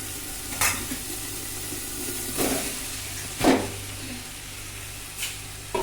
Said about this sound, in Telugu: అన్నం వేసుకున్నాక ఇటు అటు కలుపుకోవాలి